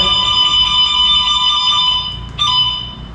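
BENLG Aura electric scooter lock alarm, a loud shrill electronic beeping tone sounding steadily and close, with a brief dip and restart near the end.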